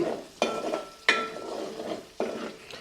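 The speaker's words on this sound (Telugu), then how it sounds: "నూనెలో కూడా మరీ వేగాల్సిన అవసరం కూడా లేదు" Garlic cloves fry in hot oil in a pan, with a soft sizzle broken by several sharp clinks and scrapes of stirring, close and fairly quiet.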